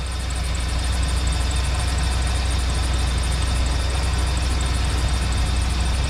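A car engine runs steadily during a battery cranking test with a TOPDON Tornado4000 charger, a continuous mid-low hum at constant loudness throughout with no talking.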